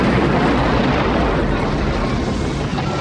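A gas station blows up in the Nevada desert in the film Universal Soldier, heard as a loud, sustained broadband roar and rumble of fire and blast that fills the whole moment without letting up.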